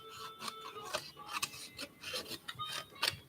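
Paper being trimmed for a bullet journal setup, with a series of close, crisp rasping cuts and scrapes in uneven bursts and no voices.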